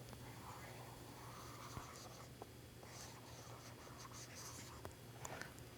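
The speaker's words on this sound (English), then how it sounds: "So now I can use my pen to write a name." A pen writing a name on paper for a paper doll craft, a soft continuous scratching under faint background hum with occasional small taps.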